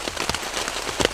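Rain falling steadily on a surface at a cold, windy campsite, a dense close patter with scattered sharper drops and no voices.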